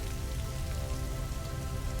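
Rain falling steadily on a misty island shoreline, a constant gentle hiss of drops that holds level throughout with no one speaking.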